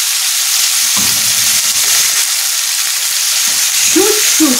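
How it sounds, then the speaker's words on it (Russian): Mushrooms fry in a pan at home, a steady close sizzle and hiss with a few soft stirring scrapes and brief quiet talk. "И их поджарим."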